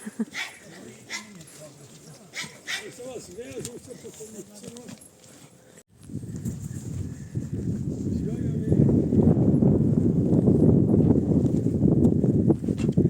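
Horse hooves clop on a hollow surface in a quick uneven series as a mare walks onto a trailer, close by, with people talking and a dog barking nearby.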